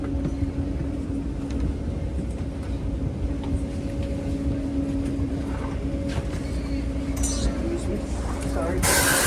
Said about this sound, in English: Southbound Express Train 518, making select stops to San Jose Diridon